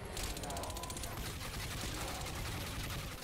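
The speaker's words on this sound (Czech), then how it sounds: "Tamhle po mně střílí." Rapid bursts of automatic gunfire in the video game Crysis 2 crackle continuously with a clattering, mechanical texture, loud and dense throughout.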